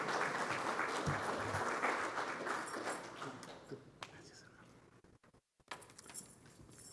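A church congregation applauds to welcome a visiting pastor, dense clapping that is strongest at first and then thins out into scattered claps with a voice coming in.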